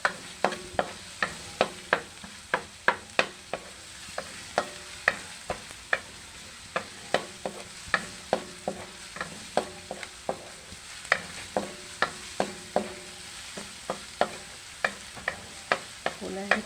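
Garlic frying in oil in a pan for Filipino pork ribs sinantomas, stirred with a spatula: steady close sizzle broken by rhythmic scraping strokes about once a second, with no voices.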